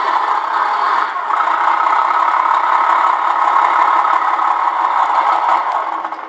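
Simulated truck engine from a Beier SFR-1 sound module in a Tamiya 1/14 Globe Liner model truck, a loud, steady rattling diesel-like idle running continuously without talk.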